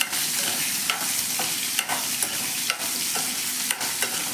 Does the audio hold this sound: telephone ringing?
no